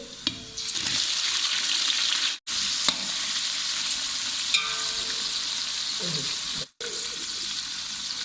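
Steady loud sizzling of about 1 kg of tomatoes frying in a pan, with brief stirring and scraping sounds and a couple of short pauses.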